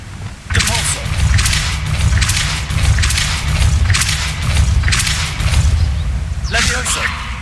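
The Depulso force-push spell is cast repeatedly in Hogwarts Legacy, each cast a loud whooshing burst with a booming thud, coming in a rapid series of bursts over continuous game ambience.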